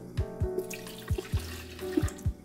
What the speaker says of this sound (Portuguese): Meio copo de água natural.